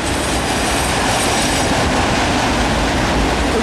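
A heavy Norfolk Southern manifest freight train with AC44 and SD70ACu locomotives and loaded auto racks rolls past near Shawsville, a loud, close, continuous roar of wheels and rail noise.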